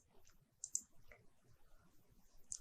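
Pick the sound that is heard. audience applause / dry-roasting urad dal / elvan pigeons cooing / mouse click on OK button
mouse click on OK button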